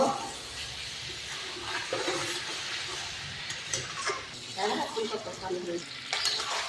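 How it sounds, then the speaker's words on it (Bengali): Chicken sizzling in a pan as it is stirred and fried down with potato and tomato, a soft continuous fry with scraping and clinking stirs, fairly quiet and close. "মাংস কষিয়ে নিচ্ছি, ভালো করে কষিয়ে নিব"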